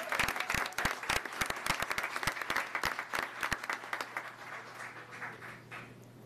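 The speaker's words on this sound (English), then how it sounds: "Can we have one more round of applause for these amazing students who are in here?" An audience at a Duval County School Board meeting applauds students, a fairly faint burst of many hands clapping that thins out and fades over about six seconds, with a low hum underneath.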